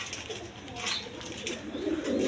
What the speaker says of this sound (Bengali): দেখেন ডিম বাচ্চা করানো কবুতর